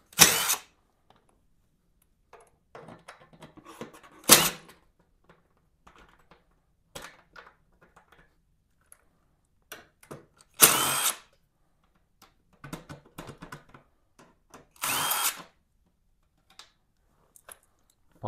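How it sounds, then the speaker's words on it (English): Power drill bursts backing screws out of a 2023 Lifan KPM 200cc motorcycle, four sharp whirring runs spaced several seconds apart, close and loud, with quieter clicks and handling noises between them. "We'll take these three screws out."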